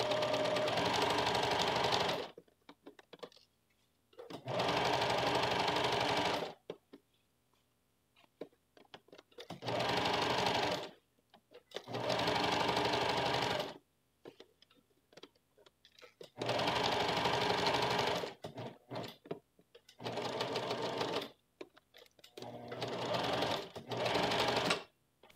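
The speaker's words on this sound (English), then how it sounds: "And then we're going to go and sew this together." A sewing machine stitches a lined yoke seam on a Western blouse in several loud, steady bursts of whirring lasting a few seconds each, separated by near-silent pauses.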